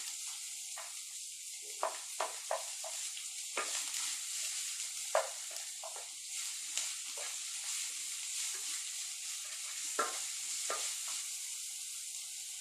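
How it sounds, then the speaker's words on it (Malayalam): Sliced onions frying in hot oil in a pan, a constant hissing sizzle broken by repeated scraping stirs of a spoon, close and moderately loud, no talking. "അതിലേക്ക് സവാള ഇടണം"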